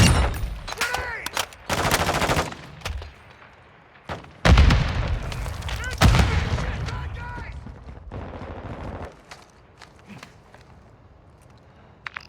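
Gunfire in the shooter Warzone 2.0 comes as bursts of automatic fire and sharp single shots, loud and close, broken by short lulls and heavier booming hits, with voices talking under the action.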